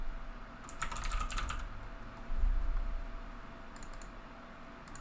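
A computer keyboard being typed on while a file name is entered: a quick burst of close, crisp key clicks, a pause, then a shorter run of taps, with no voices.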